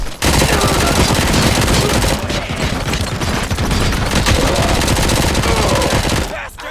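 Loud, sustained automatic gunfire in Robocop: Rogue City, a rapid rattling stream of shots that runs almost unbroken before cutting off abruptly near the end.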